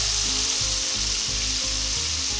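Sliced green peppers and onions sautéing in oil over medium-high heat, a loud, dense, steady hiss of frying with a few soft stirring scrapes underneath.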